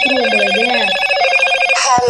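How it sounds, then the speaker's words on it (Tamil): A phone rings inside the horror video game Granny Chapter Two, a loud, continuous electronic trill with layered tones. It is heard up close, with a faint voice briefly underneath at the start. "யாரும் ஃபோன் வேறு பண்ணுறாங்க."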